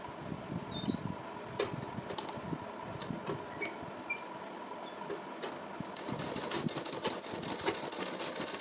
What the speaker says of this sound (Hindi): तो मैं अब इसमें फाइनल स्टिच लगाने जा रही हूँ।